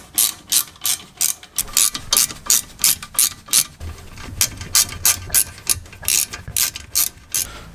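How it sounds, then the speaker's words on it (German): Hand ratchet tightening bolts on a car brake caliper during wheel bearing work: quick, crisp clicking strokes in regular bursts with short pauses between, close and clear, no voices. "Zack, Bolzen rein. Einmal festziehen hier."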